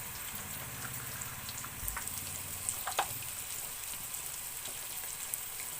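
Tomatoes frying in a pan with turmeric give a steady, soft sizzle with occasional light pops and crackles, close and moderately quiet, with no talk.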